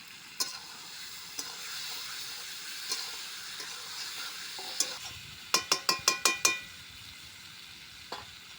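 Marinated chicken dropped into a pan with fried onion and tomato, a steady soft sizzle with occasional clicks of a spatula against the pan and a quick burst of rapid scraping taps midway.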